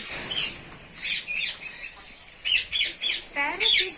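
Pair of Australian parrots squawking on a farm, a run of harsh, repeated calls in quick bursts, fairly close and loud.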